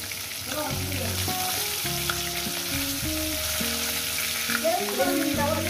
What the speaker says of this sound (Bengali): মাছগুলো আমার ভাজা হয়ে গেছে বন্ধুরা, মাছগুলো আমি তুলে নিচ্ছি।